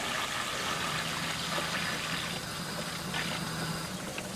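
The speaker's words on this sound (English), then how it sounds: "We hear air. We have bubbles in the pump." Pool pump running with air bubbles in it, water churning and gurgling at a steady moderate level, with no voices.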